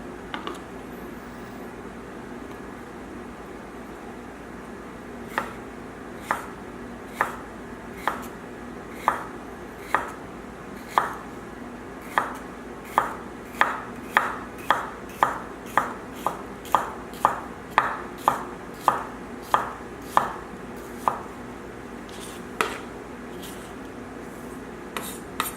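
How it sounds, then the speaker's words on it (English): A kitchen knife chops ingredients on a cutting board while preparing smoky chicken tacos, sparse at first then a quick regular run of crisp close taps over a quiet room. "Either do it chopping this way, or you can do a rocking motion."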